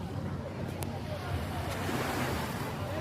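Gentle sea waves wash onto a calm beach at Nasugbu, Batangas, a steady soft surf with light wind noise on the microphone.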